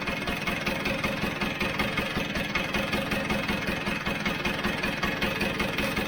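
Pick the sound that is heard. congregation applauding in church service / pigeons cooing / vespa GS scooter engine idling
vespa GS scooter engine idling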